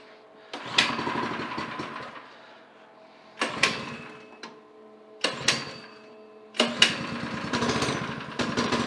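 A Predator small engine on a go-kart is pull-started and runs: loud, close bursts of rough mechanical clatter, several separate pulls and catches, the last settling into steady running.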